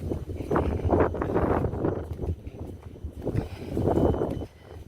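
Wind gusts over an outdoor property in Murcia, Spain, a steady loud rumble and buffeting against the microphone that rises and falls in waves across the whole stretch.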